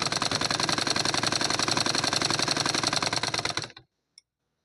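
A sewing machine runs steadily, stitching a cotton blouse lining with a fast, even mechanical chatter, then stops abruptly, leaving a single faint click.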